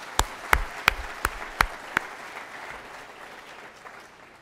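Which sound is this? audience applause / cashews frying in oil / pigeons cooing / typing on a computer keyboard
audience applause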